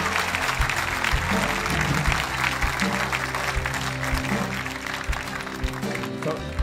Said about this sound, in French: Je veux que vous leviez et applaudissiez avec moi.